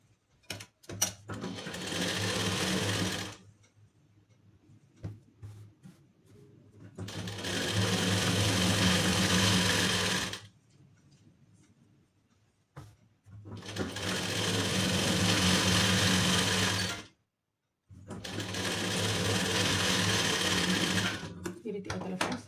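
A sewing machine stitches a lining piece onto a blouse in several loud, close, continuous whirring runs of a few seconds each, separated by pauses, with no talking.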